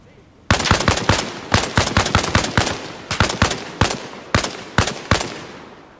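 Rapid bursts of gunfire from the Arma Reforger military shooter, a dozen or so sharp close shots in quick irregular clusters, loud and dominant with a faint background hum.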